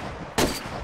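A single sharp gunshot in the survival shooter DayZ, a sudden crack with a short ringing decay, fairly close, over a quiet background.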